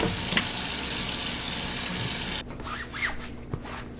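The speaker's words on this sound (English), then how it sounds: "I'm gonna wash my hands." Hands washed under a running kitchen tap after cutting beef, a steady hiss of flowing water that stops abruptly, followed by softer drips and splashes.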